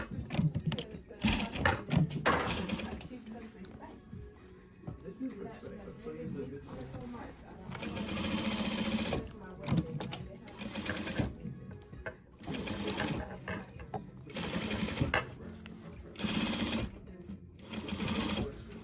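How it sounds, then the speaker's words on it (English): A sewing machine stitches along a seam in repeated bursts, its rapid mechanical chatter starting and stopping several times at close range, with short pauses between runs and some talking in the room. "I'm going to continue stitching along the line still"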